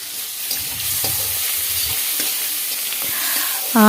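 Shrimp coated with turmeric, chili powder and salt frying lightly in white oil, giving a continuous loud close sizzle with a few soft taps of a utensil.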